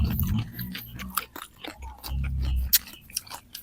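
Crunchy carrots being bitten and chewed up close, with repeated crisp crunches and low mouth sounds in an irregular rhythm, no talk.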